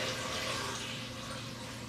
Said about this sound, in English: We're going to take some water and we're going to pour it over our chicken